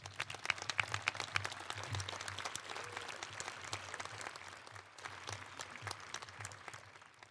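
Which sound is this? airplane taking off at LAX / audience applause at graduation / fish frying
audience applause at graduation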